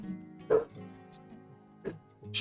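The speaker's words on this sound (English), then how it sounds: "Shut up, dog." A dog barks in short yips from close by, a few separate bursts with quiet gaps between them, heard alone with no talking.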